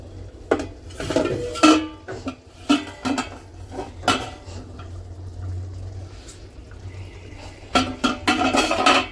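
Palak paneer stirred and roasted in a pan, with close utensil scrapes and clinks against the metal coming in irregular bursts, plus a low background hum in between.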